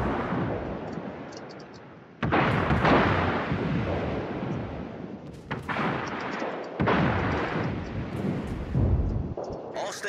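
Naval guns booming in World of Warships, three heavy broadband blasts spaced a few seconds apart, each with a long rumbling decay, loud and close over a steady low battle background.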